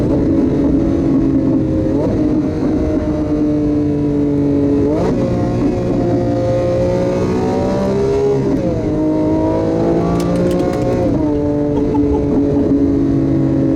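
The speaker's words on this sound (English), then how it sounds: "Aventador, just listen to this." A Lamborghini Aventador S V12 engine runs loud and steady throughout, its pitch rising and falling through repeated revs and gear changes, with brief sharp blips between pulls and no one talking.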